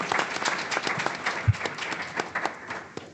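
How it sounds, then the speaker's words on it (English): An audience at a public health panel discussion claps for the panelists, a brief burst of dense, even applause from a modest crowd. "So I'd just like to give a round of applause to all of our panelists before we begin."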